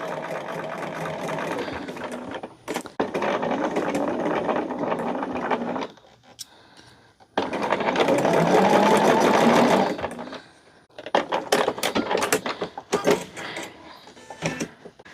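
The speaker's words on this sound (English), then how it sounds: "top stitch along the outside edge here." A sewing machine top stitches along the outside edge of a fabric picnic caddy, running in steady bursts of rapid stitching separated by short pauses, loud and close.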